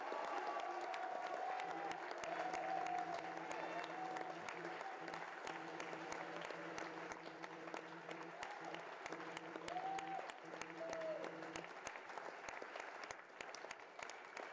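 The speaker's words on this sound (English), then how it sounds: "Can we give another round of applause to TGH for his run of Undertale?" Sustained audience applause at the AGDQ charity marathon honoring an Undertale speedrun, a dense crowd of clapping hands filling a hall with steady rhythm, with faint background murmuring and stage voices underneath.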